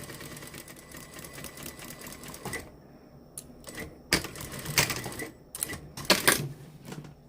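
A sewing machine stitches the seam allowance at the bottom of a pair of semi-formal trousers. It runs in a steady whirring burst, pauses, then gives several sharp loud rattling runs up close.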